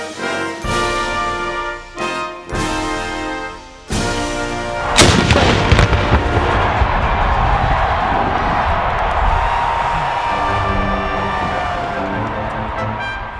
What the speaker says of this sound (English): when this gun goes off at the last note of the national anthem